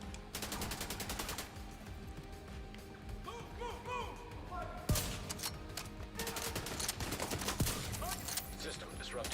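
Bursts of automatic gunfire and scattered shots ring out in The Division 2, mixed with sharp impacts and chaotic combat noise under ongoing talk.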